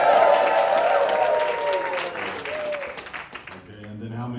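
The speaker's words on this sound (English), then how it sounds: "So let's do a round of applause." An audience at a live show claps in a broad wash that gradually fades while a voice talks over it.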